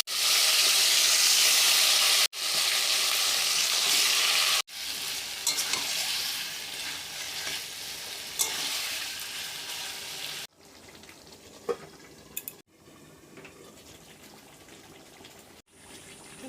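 Marinated coriander chicken with cardamom and cloves sizzles loudly in a hot kadai, with stirring scrapes, then the frying settles to a quieter, steady hiss with occasional pops.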